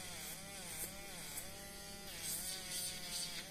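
A small cordless electric nail sander fitted with a fine-grit head gives a faint, continuous whining buzz whose pitch wavers slightly as it runs, with no voices over it.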